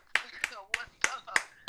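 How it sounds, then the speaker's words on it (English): A studio audience claps along on a radio morning show, six sharp hand claps in a loose steady rhythm, close and distinct, with a voice talking between them. "Everybody clap."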